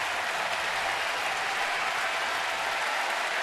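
Sustained, dense roar of a large baseball stadium crowd of over 32,000 cheering and clapping at a Cubs at Nationals game on July 4, loud and steady throughout with no break.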